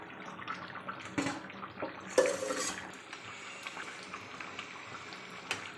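A lid clinks down onto a cooking pot of jackfruit curry with potatoes and mutton fat after water has been poured in. One brief, faint metallic knock rings out amid soft kitchen clatter and watery sounds.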